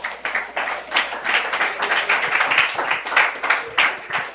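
A church congregation claps in uneven bursts and swells, fairly close and moderately loud, with no one talking over it.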